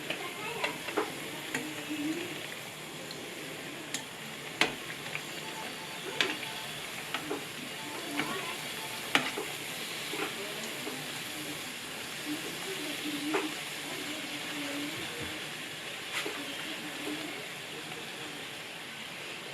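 Bugnes dough frying in hot oil, a constant soft hiss and bubbling sizzle with occasional sharp pops and faint clicks, steady and fairly quiet throughout.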